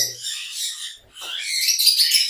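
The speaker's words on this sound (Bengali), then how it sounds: "এই ডিএনএ করা লাভবার্ডগুলা পাঁচ মাস প্লাস বয়স" DNA-sexed lovebirds over five months old chirp at a bird farm in a bright, close flurry of high tweets that pauses briefly before rising again.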